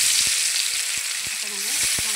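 Marinated pangas fish sizzles steadily in hot oil in a wok, a loud continuous hiss with a few sharp pops and crackles scattered throughout.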